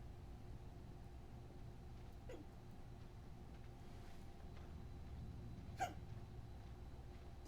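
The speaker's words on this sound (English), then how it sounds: "You got the hiccups. Well, a singular hiccup." A single short hiccup in The Stanley Parable pops out near the end, faint against a quiet, steady background hum.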